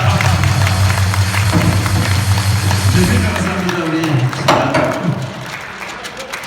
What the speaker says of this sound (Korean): 동의하시는 박수하고 마치겠습니다